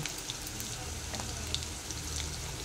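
Ginger-garlic paste hits hot oil in a frying pan while a bommidi fish curry is being made, giving a loud, steady, close sizzle that crackles continuously throughout.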